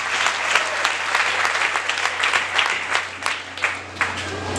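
A church congregation claps steadily during a sermon, a loud, continuous wash of many hands with rhythmic accents that swell and ebb throughout.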